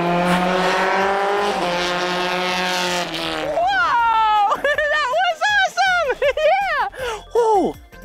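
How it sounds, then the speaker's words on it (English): F1 race cars on a racetrack give a sustained, loud engine drone, then a rapid series of rising and falling revs as they speed past close by. "This is where they have F1 races. Yeah, those are really, really fast cars."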